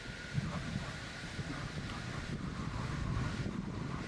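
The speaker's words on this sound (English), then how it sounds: "We're on Warolti Beach, and it's a very windy day." Strong gusty wind on Warolti Beach, a continuous faint roar buffeting the microphone with no talk.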